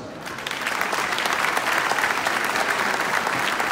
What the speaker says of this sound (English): we'd like to give them a great big round of applause